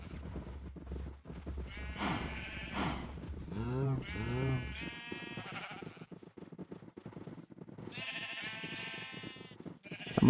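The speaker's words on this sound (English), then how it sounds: "Come with me, sheep." Sheep in the Minecraft Bedrock Edition video game bleat several times in wavering, quavering calls at moderate loudness, some overlapping, with a player talking quietly in between.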